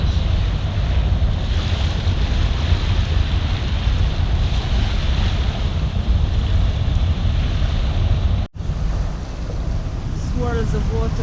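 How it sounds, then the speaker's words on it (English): Loud rushing, churning water swirling in whirlpools in a six-knot current beside a Hallberg-Rassy 54 sailboat off New York, with heavy wind noise, a steady roar that briefly cuts out near the end. "See the whirlpools. 6 knots of current."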